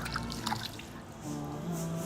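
Water runs and drips during hand washing for the wudu ablution, a short wet trickle with light splashy patter that eases into a softer flow.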